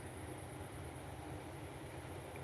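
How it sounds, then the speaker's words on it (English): A train far off near a railroad crossing, a faint steady low rumble held evenly throughout with no voices over it. "I actually think I heard a train from Slite."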